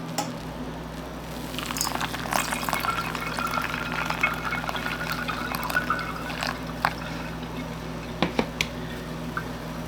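Cucumber juice is poured through a flour sack towel, a steady close trickle and splashing of liquid over a low constant hum, with small drips and patters toward the end.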